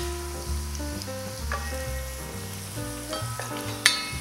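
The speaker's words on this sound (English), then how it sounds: "onions in butter, and we'll be sauteing it till it is translucent in color" Onions sauté in butter in a pan with a soft, continuous sizzle under a steady tonal backdrop, and a brief sharp clink near the end.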